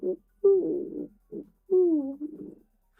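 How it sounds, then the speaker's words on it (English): Two owl-like calls in the woods, each a low hooting phrase with a drawn-out descending tail, preceded by short grunting notes, fairly close and clear with silence between. "that was an owl"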